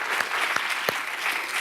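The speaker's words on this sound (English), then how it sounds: "So can we get a round of applause for everybody here at this event?" A short burst of audience applause at the Social Media Week Fairfax insider keynote, steady clapping from a room full of attendees with a few louder nearby claps standing out.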